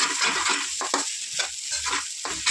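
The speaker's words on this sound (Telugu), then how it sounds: "ఎగ్స్ వేసేసి ఒకసారి కలిపేద్దాం" Scrambled eggs stirred into noodles frying in a pan, street-style egg noodles at home, with rhythmic scraping strokes of a spatula over continuous sizzling.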